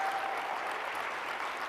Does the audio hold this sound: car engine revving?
no